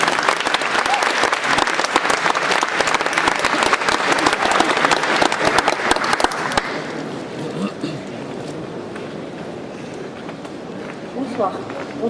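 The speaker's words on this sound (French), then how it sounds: "Vous pouvez les applaudir pour les motiver." Dense, energetic applause from a festival audience at an awards ceremony as presenters walk on stage, loud for about six seconds and then dropping abruptly to quieter room murmur with faint scattered sounds.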